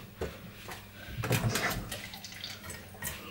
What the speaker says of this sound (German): Ich muss hier mal ein bisschen Wasser reintun.